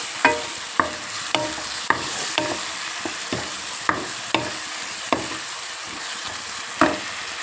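Ground garlic paste sizzles in a pan with a steady hiss, broken by regular scraping strokes of a spoon about every half second.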